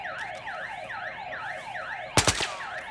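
An alarm wails inside the video game Battlefield Hardline, a steady looping electronic siren sweeping up and down several times, loud and continuous, briefly overlapped near the end by a sharp burst of noise.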